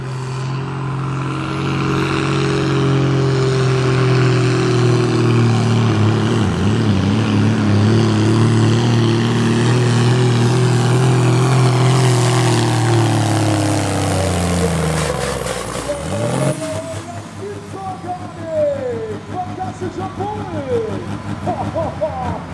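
A tractor in the Super Sportklasse 3.6 t class roars at a farm pulling event in Füchtorf, a loud sustained engine drone that rises in pitch and then drops away, with an announcer talking over it.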